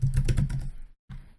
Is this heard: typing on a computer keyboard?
yes